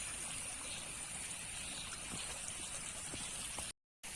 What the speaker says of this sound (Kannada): ಗುಡ್ಡದಿಂದ ಬರುವಂಥ ಎಲ್ಲ ನೀರು ನೋಡಿ ಇಲ್ಲಿಂದ ಎಲ್ಲ ಬರ್ತಾ ಉಂಟು